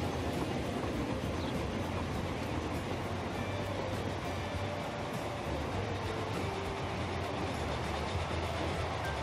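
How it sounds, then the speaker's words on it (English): A steam train in the railway game Transport Fever rolls past with a steady, dense rumble and faint rhythmic rail clatter, holding an even level throughout with no talk. "these steam trains are slowly going to start dying out"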